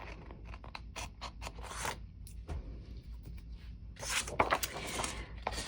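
Scissors trim a paper corner for a floral planner page, a series of crisp close snips in short bursts with quiet pauses between them.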